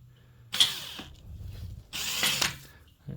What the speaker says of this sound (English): it's kind of hard to get started drilling.